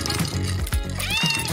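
A cat gives a couple of clear, close meows during play with a plumed toy, loud and alone without talk.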